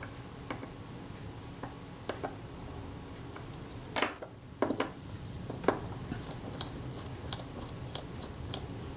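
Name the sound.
Synchro-Compur camera shutter blades opening and shutting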